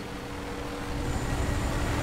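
A helicopter in the video game Resident Evil 6 gives a steady, broad rotor-and-engine rumble that swells slightly louder toward the end, with no voices over it.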